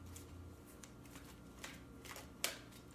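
Tarot cards are shuffled by hand in a quiet room, with faint riffling and flicking bursts and one sharper snap near the end.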